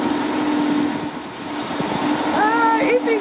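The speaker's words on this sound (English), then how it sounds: "And listen to that engine." A failing boat engine drones steadily nearby during a night arrival at the Gold Coast, a constant low hum with a brief higher squealing sound near the end.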